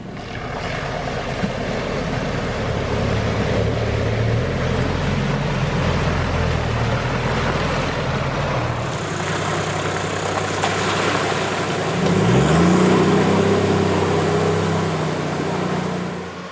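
A 4WD vehicle pushes through long, deep puddles on a Tasmanian off-road track, its engine drone blending with a steady rush and wash of water, loud and continuous with no talking.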